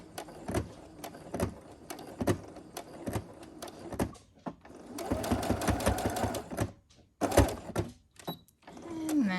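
A sewing machine back stitching a fabric face mask: bursts of rapid mechanical needle clatter, stopping and restarting as the stitch reverses, with soft handling thumps between runs and no talking.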